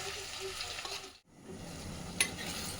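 Tomatoes sauté in a pan with a close, steady sizzle and occasional stirring scrapes. The sizzle briefly drops out midway, then returns.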